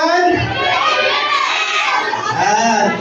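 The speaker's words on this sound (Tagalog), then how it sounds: "Sigawan ng amen yung group 1." A group of children at a church camp shouting "amen" together in a loud, drawn-out chorus that swells and fades over a few seconds, with an adult voice audible among them.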